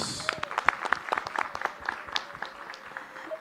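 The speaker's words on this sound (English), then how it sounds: "Let's give ourselves a round of applause." Audience at a function in a Mount Soji hotel giving a round of applause, scattered clapping from a modest crowd, fairly faint and thinning out over a few seconds.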